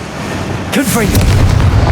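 Confringo fire-blast spell going off in Hogwarts Legacy, a sudden loud burst at about 0.7 seconds with sweeping magical whooshes, then a sustained rumbling crackle as the blast fades. A voice can be heard over it.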